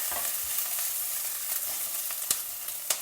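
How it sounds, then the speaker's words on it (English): Green chillies and grated ginger stir-fry in a pan with cumin, a continuous close sizzle broken by a few sharp stirring clicks. "3 to 4 green chillies and a small piece of ginger grated. Stir fry everything."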